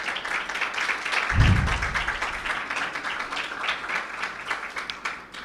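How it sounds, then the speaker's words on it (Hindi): A church congregation at a Hindi-Urdu Bible study service gives loud applause, a dense, steady clatter of clapping with a brief low thump near the start. "पाक रूह को ऑनर करते हुए रूल कुद्स के लिए ज़ोरदार तालियां"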